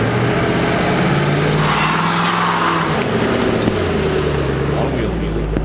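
A car engine is held at full throttle during a burnout, a loud, continuous roaring drone with a sweeping pitch, close and unbroken, with a voice talking over it.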